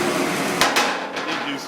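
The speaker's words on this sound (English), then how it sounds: "Did a little hammer and dolly work." Sharp metallic hammer blows against a dolly on the warped sheet-steel tailgate of a 1946 Ford, two close, loud strikes followed by a few lighter taps in a garage.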